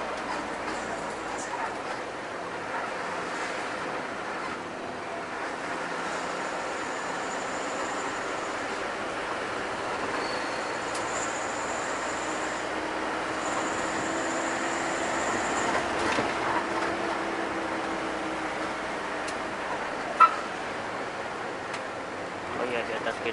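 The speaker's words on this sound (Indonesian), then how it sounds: "di atas kita ini LRT" An LRT train in Palembang rumbles steadily overhead for a long stretch, a continuous mechanical roar with faint rail squeals and one sharp click near the end, heard from below along a roadway.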